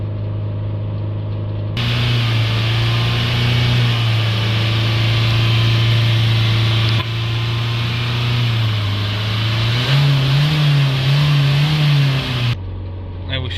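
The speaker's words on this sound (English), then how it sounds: "we're going to hold the revs up sort of around 3000 RPM" A Renault Trafic / Vauxhall Vivaro van engine is held at a steady high idle around 3000 RPM, droning close and loud as a continuous even hum that steps up slightly in pitch near the end.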